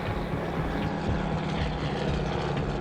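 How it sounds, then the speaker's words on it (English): Loud, steady engine and propeller drone from inside a Cirrus single-engine plane flying through a windy desert storm, with buffeting noise filling the cabin continuously. "Stu's an old hand at flying the Cirrus, and on this run, he's the captain."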